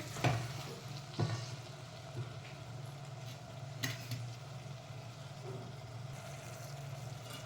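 Green garlic sizzles steadily in a pan while masala dal khichdi is cooked, with a constant frying hiss, a low hum beneath, and a few sharp clinks of stirring scattered through.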